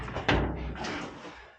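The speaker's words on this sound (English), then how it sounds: "shut this door" A cab door on the preserved Canadian Draper Taper Dash 8 locomotive swings shut with a single close, solid thud that rings briefly in the enclosed space.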